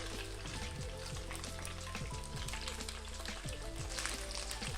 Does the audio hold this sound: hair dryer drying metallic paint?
no